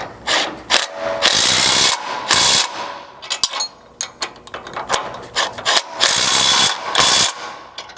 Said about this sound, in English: come back with an 18mm socket and wrench and tighten those factory tow hook bolts, securing the brackets to the frame here